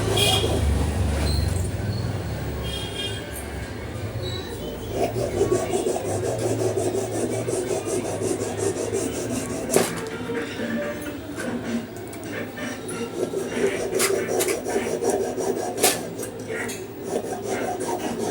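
Waste cardboard is cut down to laptop size, giving a continuous close scraping and rasping with occasional sharper snaps, loud and steady throughout.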